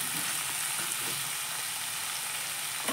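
Chili and cumin powder stirred in a hot frying pan for a fish and young pointed gourd curry, giving a steady close hiss and sizzle with faint scraping of the spoon.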